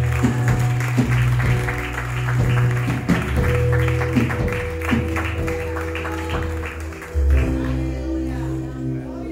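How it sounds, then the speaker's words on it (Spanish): A church congregation claps together at a Spanish-language sermon, the applause sitting under sustained music and a voice, with loud clapping running across the whole stretch. "Dale un aplauso a Cristo, hermano."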